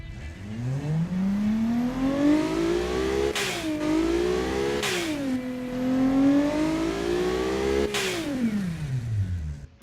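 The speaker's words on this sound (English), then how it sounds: "VTEC and turbocharger has kicked in, yo." A turbocharged Honda K20A2 engine fitted in a van revs loudly and repeatedly, its pitch climbing steadily as VTEC engages, with short bursts of whoosh or blow-off between pulls.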